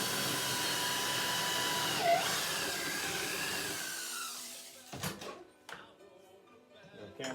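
A power drill with a 13/32 bit bores a hole into an antler for a candle holder, a steady close whirring grind for about five seconds that then cuts off, leaving scattered handling knocks.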